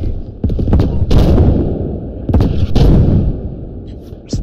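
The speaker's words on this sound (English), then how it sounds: "There's a cannon shooting at us." Artillery cannon fire in the video game Beyond The Wire, set in the Argonne Forest: several loud, heavy booms with rumbling tails, two clusters close together, over continuous battlefield noise.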